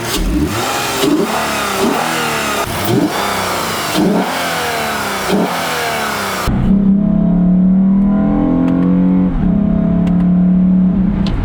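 A Lexus GS350 fitted with a Takeda cold air intake revs hard in a quick series of about seven sharp throttle blips, then holds a loud, steady, droning rev close to the microphone, with no talking.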